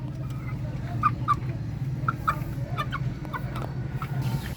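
Scattered clucks from chickens sound over a low, steady background hum, with short calls spaced irregularly.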